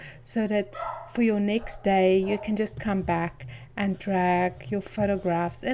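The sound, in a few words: dogs barking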